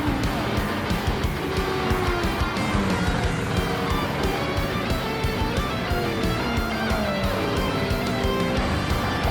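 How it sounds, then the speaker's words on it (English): A loud roadster race car engine roars through a racing challenge series event, joined by other cars in a small pack, producing a steady, dense drone with rising and falling pitch sweeps throughout, close and continuous. "My god, that roadster is loud."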